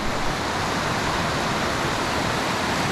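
A clear winter trout creek flows steadily in a dense, continuous rush, close and loud without a break, with no voices.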